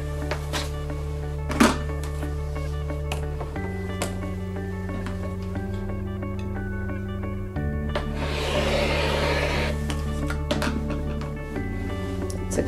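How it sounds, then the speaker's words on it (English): Rotary cutter slicing through layered quilting fabric along stitch lines, a soft scraping rasp with a louder stretch of cutting midway, over a steady background hum. "So we're going to rotary cut in between our stitch lines"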